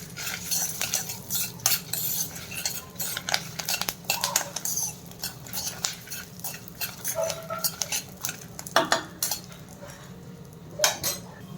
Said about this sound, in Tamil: எல்லாத்தையும் சேர்த்து நல்லா வதக்கி விடுங்க